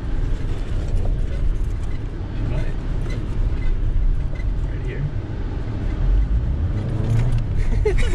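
A car drives back from the beach, a steady interior engine and road rumble throughout with faint rattles and a few small knocks.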